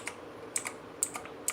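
Keys pressed on an ABKO Hacker K2000 mechanical keyboard, a handful of separate crisp clicks spaced irregularly, close but fairly quiet, with no talking.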